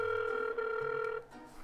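A telephone ringback tone plays once while calling someone, a steady electronic tone lasting just over a second before cutting off.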